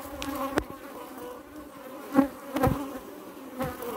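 Honeybees at a hive returning with nectar fill the air with a close, steady buzzing hum, with louder swells as individual bees fly past the microphone.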